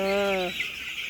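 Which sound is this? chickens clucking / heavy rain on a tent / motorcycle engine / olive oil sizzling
chickens clucking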